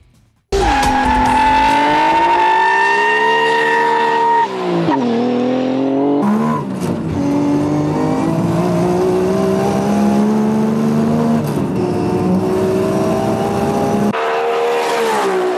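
RB26DETT-powered Toyota Supra street machine at 750 hp on 1.8 bar boost, accelerating flat out toward 300 km/h at the Yatabe test track; a loud engine roars and climbs through rapid gear changes, with tire squeal, close and continuous.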